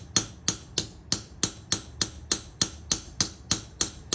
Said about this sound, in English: I'm hammering on this steel railroad track